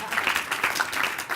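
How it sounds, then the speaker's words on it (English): A family dinner gathering applauds a game contestant, a short burst of clapping from a small group, close and moderately loud, with a voice briefly mixed in. "let's give him a round of applause."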